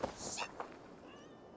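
Cats meowing in the video game Assassin's Creed Valhalla, a short, quiet plaintive meow or two that fade quickly.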